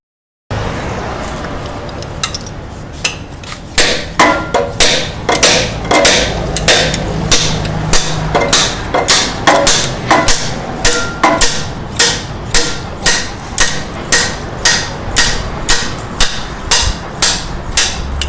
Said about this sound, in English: now it's just a matter of tapping it out with the slide hammer